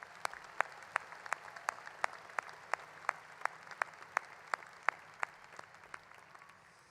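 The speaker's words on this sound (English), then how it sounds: "Let's give them one more round of applause." Graduation audience at Huntley High School claps for the choir in a sparse, distant patter, sharp individual claps spaced at an even rhythm over a soft room hum.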